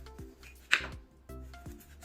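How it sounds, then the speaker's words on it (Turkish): A knife chops peeled, washed potatoes into small pieces on a board, a few sharp, quiet cuts spaced at irregular intervals. "soyup yıkadığım, kurumaya bıraktığım patateslerini küçük küçük doğrayacağım"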